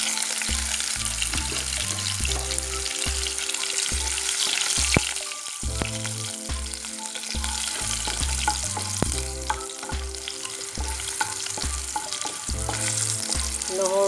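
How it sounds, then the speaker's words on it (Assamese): Garlic sizzles in hot oil with a steady, close crackle, heard beneath low, rhythmic background music with no voices. "নহৰুখিনি অকণমান ৰঙচুৱা হোৱালৈকে ভাজি থাকিম"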